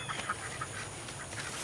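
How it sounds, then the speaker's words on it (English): Ducks quack in a home garden in short, scattered bursts, several calls overlapping at moderate distance against a steady breezy outdoor hiss. "You can hear the ducks right now."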